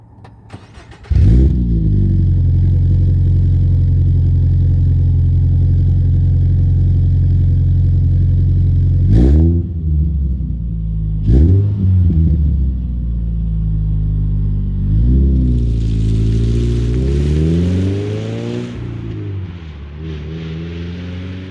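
A 2026 Toyota GR86 with a manual gearbox pulls away with a loud, close engine drone that holds steady, then rises and falls through several revs and gear changes, with wind and road noise building near the end.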